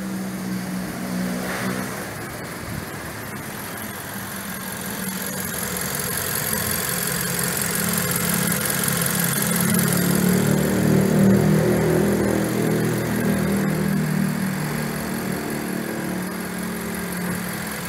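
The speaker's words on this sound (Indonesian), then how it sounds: "Suara mesinnya lebih halus." 2014 Nissan Serena 2.0L engine held at raised revs for cleaning after fitting an HHO fuel saver, a steady smooth hum that swells slightly and settles, with no one talking.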